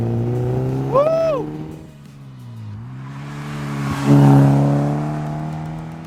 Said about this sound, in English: me driving the car up and down the road while James films from the sidelines